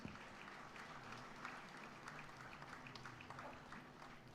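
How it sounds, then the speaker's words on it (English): Audience applause fills a hall at a foundation's 30th annual awards ceremony, steady dense clapping from a large crowd lasting the whole stretch at an even loudness with no voices above it. "A round of applause, please."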